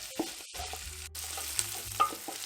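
Meat sizzles and frys in a pot with sautéed onion and ginger for a Ghanaian okra stew, a soft close crackle with a few stirring clinks over a low steady hiss.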